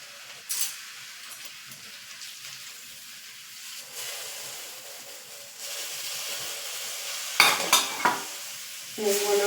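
Potato sabzi with lemon juice being mixed in a hot pan, a steady soft sizzle under occasional spoon scrapes and a few sharper clinks near the end, close by with no voices.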